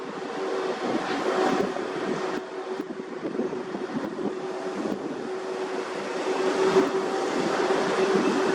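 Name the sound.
strong wind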